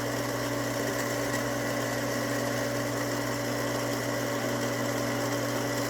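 Frankford Arsenal case prep center runs steadily while trimming, deburring and chamfering brass cartridge cases, a constant motor whir and hum with a low tonal drone and no break, no voices.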